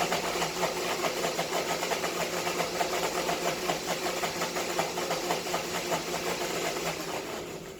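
A blender pulsing açaí bowl ingredients, a loud motor that whirs and chops in quick, rhythmic bursts and then trails off slightly at the end.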